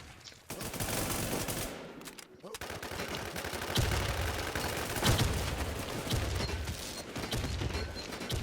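Rapid video game gunfire in sustained automatic bursts with a brief pause, loud and close, while players talk over the shooting.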